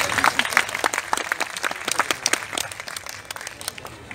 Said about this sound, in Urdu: اسے کہا کہ بھائی اچھا آپ تالی بجا سکتے ہیں